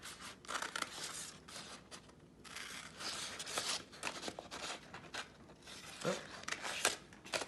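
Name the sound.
scissors cutting out a paper name design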